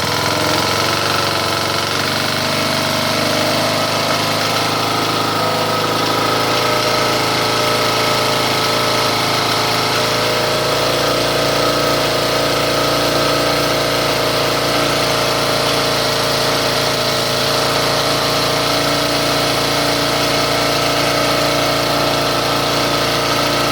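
John Deere mower engine running steadily and loudly at close range for the whole stretch, a continuous droning rumble with no pauses and no talk.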